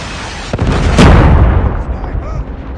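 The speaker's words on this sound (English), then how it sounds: "Predator missile inbound." A Predator missile strike in the video game Call of Duty, a single loud, close boom that swells and rumbles away over about two seconds.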